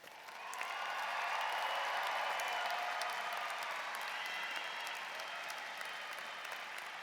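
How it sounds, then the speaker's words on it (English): Graduates applaud at a Northern Arizona University fall commencement ceremony, a broad, steady wash of clapping that swells in and holds loud and sustained for several seconds, with faint crowd noise mixed in. "It is now your time to give yourselves a big round of applause."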